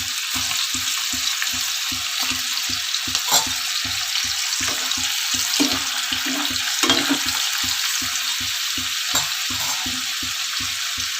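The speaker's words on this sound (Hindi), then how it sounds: "हम इसके अंदर इस तरह से थोड़े थोड़े से चने डाल के फ्राई कर लेते हैं।" Chickpeas fry in hot oil for chilli chana with a loud, continuous crackling sizzle, close up and sustained throughout over a faint rhythmic background pulse, with no talking.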